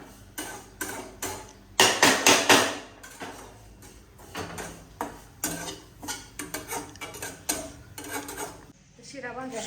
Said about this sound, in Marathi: शिरा भाजायची चालू इकडं.